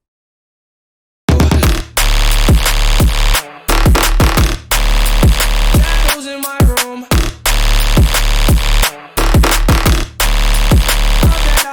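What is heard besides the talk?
jump up stab bass synth made in Xfer Serum, with sub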